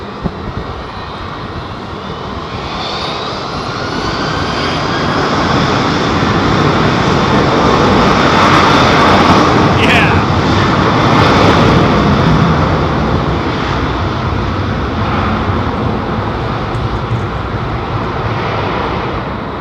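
Airliner jet engines roar during a departure from London Heathrow Airport. The sound is a loud, continuous broadband rumble that swells in the middle and slowly fades, with no talk.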